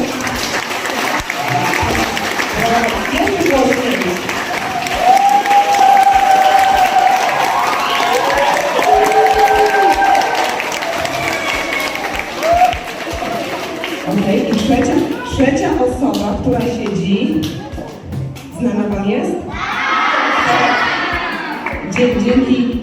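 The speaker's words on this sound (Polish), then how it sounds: "wszyscy teraz gromkie brawa dla pana Damiana" School children give loud applause and cheering for a speedway rider visiting their school, sustained clapping with shouts and excited young voices, heavy and close, with some talking mixed in.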